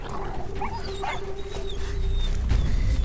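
Dogs in the video game Beyond Two Souls give brief yips and barks amid a busy game soundscape with a steady hum, the animals sounding a little distant and startled.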